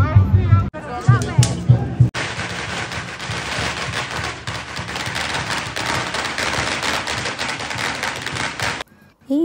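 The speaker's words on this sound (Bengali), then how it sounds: "এই ফায়ার ক্র্যাকার্সে একটু পরপর আমার কান ঝালাপালা হয়ে যাচ্ছিল" Firecrackers exploding at a Lunar New Year dragon parade in Chinatown streets: a few separate loud bangs, then a dense, continuous crackling barrage for several seconds, near and loud, with crowd noise mixed in before it stops abruptly.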